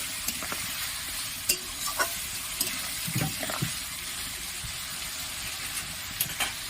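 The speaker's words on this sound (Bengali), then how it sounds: "আর একবার আমি এটা নেড়ে দেবো" A shrimp poppy-seed curry fries in a pan while it is stirred: a constant low sizzle broken by scattered clinks and scrapes of the spoon against the pan, heard close with no speech.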